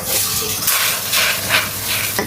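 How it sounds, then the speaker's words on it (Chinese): River shrimp hiss and sizzle while being stir-fried in a wok, a steady broad frying noise with a few brief louder bursts of steam throughout. "清炒河虾，炒香。"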